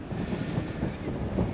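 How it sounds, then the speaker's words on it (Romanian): Wind gusting across a monastery rooftop in Palermo, Sicily, a steady broadband rush of buffeting air against the microphone with slight swells, no voices. "bate un pic vântul, sperăm să se audă"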